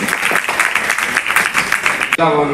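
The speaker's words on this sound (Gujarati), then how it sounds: "એવા પત્રકાર માટે આપણે જોરદાર તાળીઓથી સ્વાગત કરી દઈએ" An audience claps in welcome for a journalist at a Bhagavat katha gathering held during a charity mass wedding, a dense, loud round of applause that cuts off abruptly near the end, followed by a brief tonal sound.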